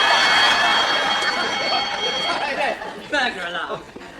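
A burglar alarm rings through a sitcom scene, its steady high tone sounding for a few seconds under loud crowd-like chatter and laughter, with voices talking over it near the end.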